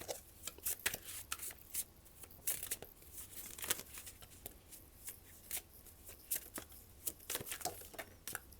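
Tarot cards are shuffled by hand in a quiet room, giving a soft, steady riffling and flicking with many quick crisp snaps. The sound stays faint and close throughout, with no voice over it.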